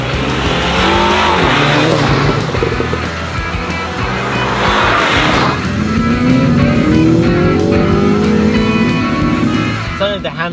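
A 2022 Mini JCW in sport mode pulls hard with a loud, rising engine note and brief exhaust crackles. A person talks over the engine, and tire noise is heard near the end.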